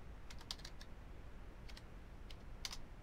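A branch name being typed on a computer keyboard in VS Code, heard as a few quick, light, close clicks in short clusters over a steady low hum, with no voices.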